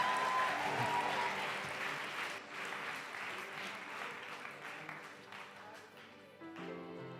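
A congregation at a worship conference claps together in a sustained, crowded wash of applause that slowly fades, with voices and musical tones mixed underneath.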